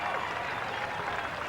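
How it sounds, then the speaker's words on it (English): Crowd cheering and clapping in the stands during a simulated Australia versus West Indies test match in the cricket game Cricket 2000, a steady wash of noise throughout the short stretch. "Very interesting to see the cheering in the stands."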